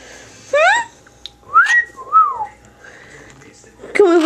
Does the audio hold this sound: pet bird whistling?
yes